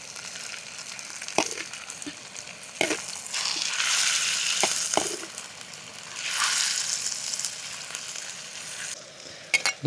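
Chopped chicken sizzling and frying in a pan at a campsite, with occasional sharp clanks and scraping of a utensil stirring, close and moderately loud.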